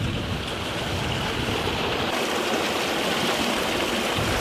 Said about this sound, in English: this tube is literally water coming right out of the earth